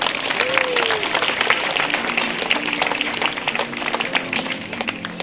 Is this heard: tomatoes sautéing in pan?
no